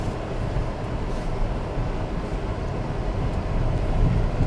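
A Mitsubishi XFORCE HEV drives over gravel on a test course, a steady close rumble of tyres crunching loose stones with low road roar throughout, no talking.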